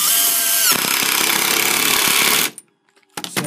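A Craftsman Nextec impact driver drives screws into wood at close range, a loud continuous buzzing hammer rattle for about two and a half seconds, then it stops abruptly, followed by a brief pause and a short restart.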